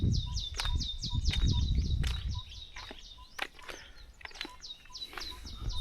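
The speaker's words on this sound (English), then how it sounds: "you can hear the birds. They are very loud." Loud birds sing in a Kenyan village in the Mt Kenya region, with repeated rhythmic chirping phrases close by, sharp calls cutting through, and low rumbling and footsteps in the first half.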